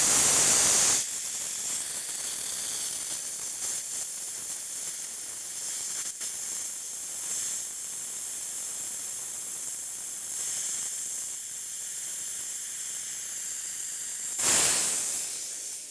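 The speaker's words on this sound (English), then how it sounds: "you can slowly or quickly vent pressure directly at the process connection" Pressure vents through an in-line vent valve at a process connection as a steady, loud hiss that holds for about fifteen seconds, with a sharper burst at the start and another near the end.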